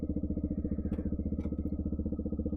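Suzuki Gixxer 150SF motorcycle fitted with a Yoshimura full exhaust, a close, steady single-cylinder thrum with a rapid even pulsing beat, running alone without talk.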